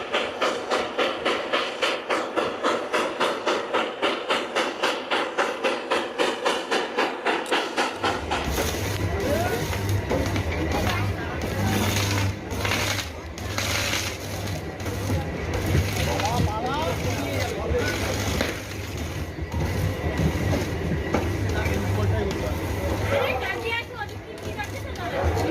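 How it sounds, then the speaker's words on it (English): The 101-year-old steam locomotive number 18 on the snowy Rio Grande railway chuffs in a fast, steady rhythm for several seconds, then a narrator's voice and music take over and mask it. "Watch the iconic 101-year-old steam locomotive number 18 cut through a frozen paradise along the"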